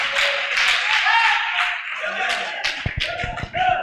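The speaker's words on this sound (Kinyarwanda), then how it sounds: "Mukomere Imana amashyi." A church congregation claps in worship, with voices up front at first and then a burst of sharp, scattered hand claps toward the end.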